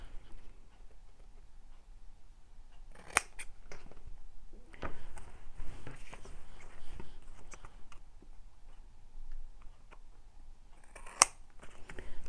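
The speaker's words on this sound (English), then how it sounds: "I just trimmed the edge ever so slightly then." Scissors trim the edge of a paper Christmas junk journal tag, a few quiet crisp snips and clicks scattered among faint handling rustles in a hushed room.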